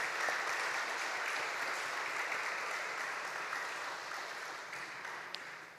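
A church congregation applauds in welcome, a steady wash of many hands clapping that stays even and gradually fades toward the end, heard from a moderate distance and fairly soft.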